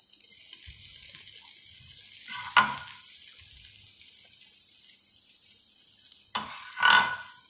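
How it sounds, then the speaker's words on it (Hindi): Pancake batter fries in melted butter in a pan, giving a soft, airy hiss with two louder sizzling bursts, one early and one near the end, and no talking. "चलिए अब इसमें हम पैनकेक डालेंगे अपना।"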